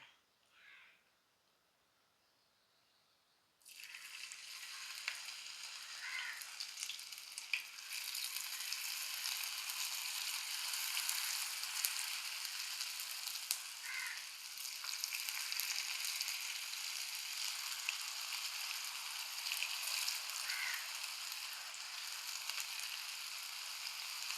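Masala-coated banana stem pieces dropped into hot oil, setting off a sudden loud, continuous frying sizzle after a quiet start, with occasional faint crow caws in the background.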